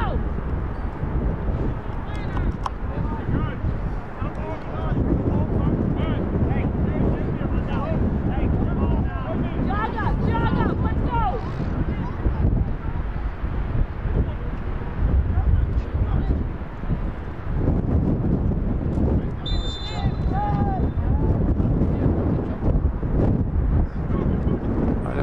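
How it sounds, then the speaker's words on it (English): Strong gusty wind buffets the microphone across an outdoor football pitch during a match, a loud continuous rumbling roar with shouting voices of players and spectators over it and a brief honk-like call near the end. "The wind's against us."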